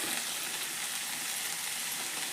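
Sprouted moth bean palya with chopped tomato fries in a pan, giving a steady, soft, continuous sizzle throughout.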